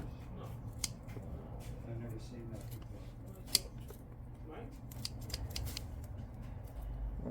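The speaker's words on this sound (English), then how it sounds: "Let's cut off all this stuff in here." Dahlia plant stems snipped off with scissors, a series of sharp, close cuts at an irregular pace over a low background hum.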